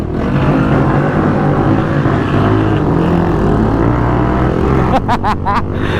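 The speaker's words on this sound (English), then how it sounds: "I expect a lot of revs" On a group ride in Bournemouth that includes a Lexmoto LXR 125 motorcycle, a close engine drones steadily, then near the end it revs in three sharp, quick bursts that rise and fall.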